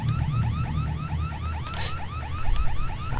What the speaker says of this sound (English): Is that the smoke alarm going off?